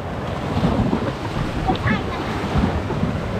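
Ocean waves wash against a rocky shoreline, a steady rushing surf with some wind noise, heard up close and fairly loud, with no clear talk over it.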